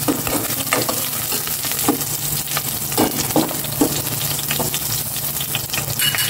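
Chicken liver and gizzard sautéing for chop suey, a loud continuous sizzle with repeated scraping stirs of a spatula against the pan at an uneven rhythm.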